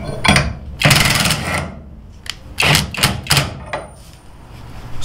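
A Hercules HCB84B half-inch cordless impact wrench with a large 29 mm socket, run at speed 1, bursts in short, loud hammering rattles, several close bursts separated by brief gaps.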